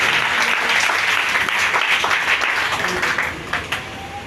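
A church congregation applauds at a service, dense sustained clapping with some voices mixed in, thinning and fading toward the end.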